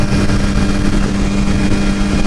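A motorcycle on a highway during a group ride, heard as a loud, steady engine drone with a constant hum and rushing wind noise throughout.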